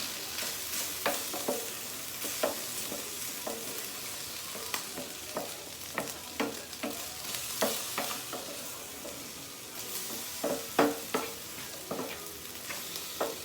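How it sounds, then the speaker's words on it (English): Three eggs are quickly scrambled in a hot pan, a faint steady sizzle under frequent soft scraping strokes of a spatula. "Scramble this up real fast"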